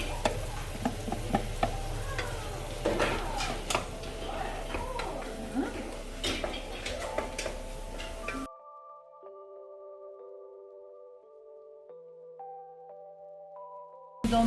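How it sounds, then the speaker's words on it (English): Mushrooms and onions fry in butter in a pan, a busy crackling sizzle with spatula stirring and scraping, with people talking over it, before the sizzle cuts out and gives way to a few soft tones. "So now we are adding mushrooms. Yes, and we fry all of them."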